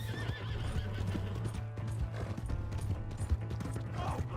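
Horse in the Red Dead Redemption 2 video game whinnying loudly while hooves clip-clop in a quick galloping rhythm, set against a low steady hum and faint background voices.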